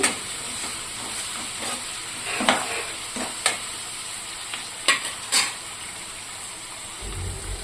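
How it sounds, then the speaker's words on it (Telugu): Sliced onions fry in a pan for mint rice while a spoon stirs them, giving a steady soft sizzle and hiss broken by several sharp scraping strokes, close and moderately loud, with no talking. "ఇప్పుడు వీటిని మంచిగా కలిపేసేసి ఇవి ఫ్రై అయ్యే వరకు ఉంచుతామండి"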